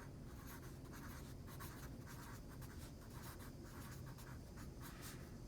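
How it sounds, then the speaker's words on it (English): A pen or marker scratches steadily across a writing surface during a math lesson, with continuous strokes close by under a constant background hiss. "Let me write it out."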